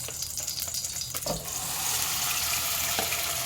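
Curry paste sizzles in hot oil in a pan, a steady close frying hiss that grows denser, with a few faint clinks and stirring noises.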